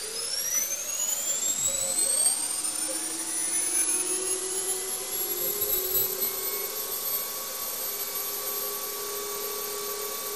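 CBN grinding wheel on a shop grinder taking a light cleanup cut of a couple tenths, a steady high whine with shifting sweeping tones and a constant airy rush throughout.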